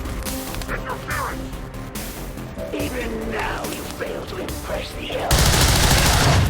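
Gunshots are fired in the video game XCOM 2: a dense, loud burst of gunfire erupts near the end, after a stretch of busy game ambience and music.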